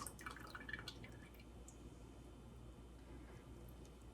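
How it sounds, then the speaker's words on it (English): Lye water pours into soap-making oils, giving a faint trickle with small splashy drips at first that fades to a soft, quieter flow. "add your lye water to your oils"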